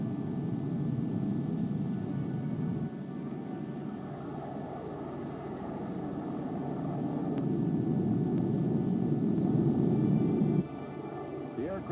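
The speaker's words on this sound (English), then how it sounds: "The F-102s scrambled." F-102 fighter jets scrambling for takeoff, a broad sustained jet-engine roar that swells louder toward the end before dropping off sharply, with a voice speaking faintly under the noise.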